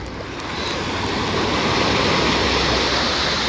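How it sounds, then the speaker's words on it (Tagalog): Strong waves break at a beach in El Nido, making a steady, loud, broad rushing roar that builds slightly over a few seconds, with no talk over it. "Lakas ng alon, guys."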